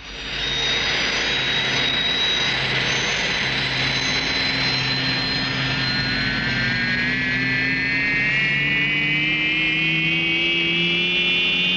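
A huge aircraft comes in to land during a dramatic rescue, its jet engines roaring loud and steady throughout with a rising whine that climbs in pitch toward the end. No one speaks.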